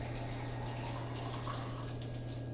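Water poured from a 1.45-liter can into pizza sauce, a steady continuous pour with a low hum beneath it, alone with no talking, lasting a couple of seconds.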